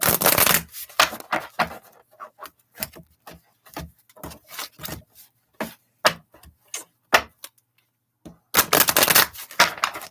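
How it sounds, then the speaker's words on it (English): Tarot cards are shuffled in repeated crisp riffles and taps, irregular bursts of papery clicking, louder flurries at the start and end. "it said shuffle them, shuffle them"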